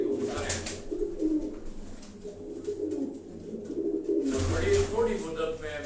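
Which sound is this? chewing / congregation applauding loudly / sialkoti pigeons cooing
sialkoti pigeons cooing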